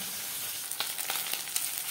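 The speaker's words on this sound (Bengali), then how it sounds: "মাছ ভাজা হয়ে গেছে" Bele fish fry in hot oil with a continuous close, bright sizzle, dotted with small crackles and pops throughout.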